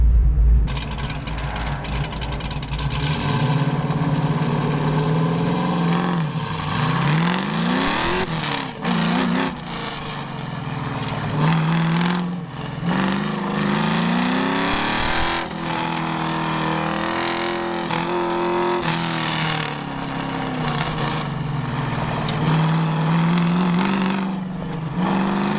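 A race car laps the Portland International Raceway road course in an autocross and track competition, its engine loud and close throughout, revving hard with rising and falling pitch through repeated upshifts and downshifts.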